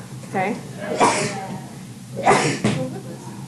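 Two sharp sneezes in a classroom, one early and one later, each a quick bright burst close to the listener, with a brief spoken word between them.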